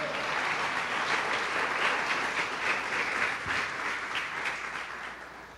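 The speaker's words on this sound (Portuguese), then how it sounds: "Dê uma salva de palmas ao Senhor." A church congregation at Igreja de Nova Vida in Catete claps for the Lord after a prayer, making a dense, even wash of applause that fades slightly toward the end.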